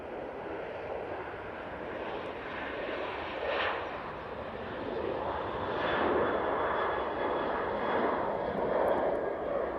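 A Ryanair airliner at Manchester Airport roars steadily, a broad continuous engine rumble that swells toward the middle and stays loud and close throughout, with no talk.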